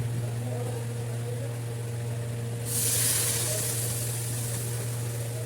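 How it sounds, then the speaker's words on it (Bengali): Water hits hot fried spice paste of salt, turmeric and chilli powder in a pan for a Pangas fish jhal, a steady sizzle that suddenly swells into a bright, loud hiss midway and keeps going, over a constant low hum. "এখন আমি জল দেব।"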